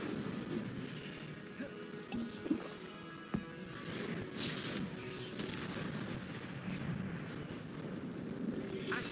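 Spell effects in the video game Hogwarts Legacy, including the Incendio fire spell, burst out as repeated booming blasts and crackles over a dense, noisy game soundscape, with no talk.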